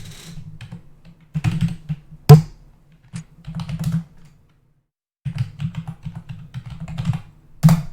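Typing on a computer keyboard comes close and clear in irregular bursts of rapid key clicks, broken by a few sharper single taps and short silent gaps.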